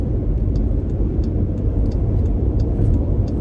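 A car drives along a road near Big Bend in Texas, giving a loud, steady low rumble of engine and tire noise with faint ticking on top, no voices present.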